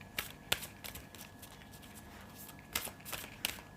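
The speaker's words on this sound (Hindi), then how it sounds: "I'm going to take some more cards from this deck." Tarot cards shuffled and drawn from a deck, soft close riffling and flicking bursts with quiet slaps of cards at a low level, without talk.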